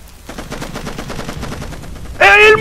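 Rapid bursts of enemy automatic gunfire in the jungle shooter game Raven Squad: Operation Hidden Dagger crackle steadily throughout, capped by a louder, ringing close burst at the end.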